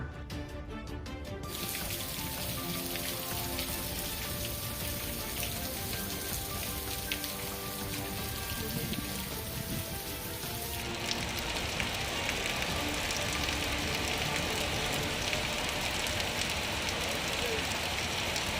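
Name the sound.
rain falling on street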